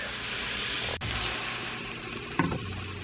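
Vegetables sizzle steadily as they sauté in an Instant Pot, seasoned with Goya Total seasoning and black pepper, a continuous close frying hiss with a brief stir or clatter near the end.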